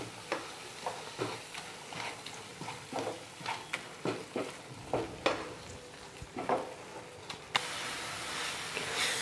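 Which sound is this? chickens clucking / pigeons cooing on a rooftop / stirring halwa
stirring halwa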